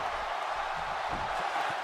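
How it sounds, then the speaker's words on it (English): A wrestling arena crowd roars steadily at a triple threat match in WWE 2K18, a dense continuous wash of cheering and shouting with no single voice standing out. "Look at this crowd. They are really into this triple threat match."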